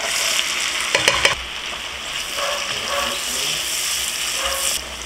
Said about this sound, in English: Add one onion.